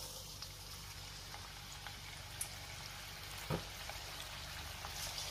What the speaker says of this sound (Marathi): आता आपण चिकन लेग पीस फ्राय करून घेऊया